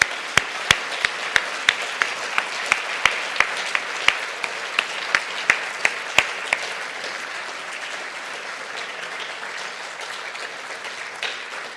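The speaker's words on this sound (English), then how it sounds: "you endorse it by giving him another round of applause" An audience at a history lecture gives a round of applause, loud clapping from a room full of people with sharp individual claps standing out early, then gradually thinning and fading toward the end.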